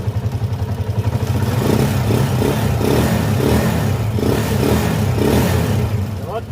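A motorcycle engine idles during an idle adjustment, a close, loud, rapid pulsing putter with slight rises in revs, while someone talks over it.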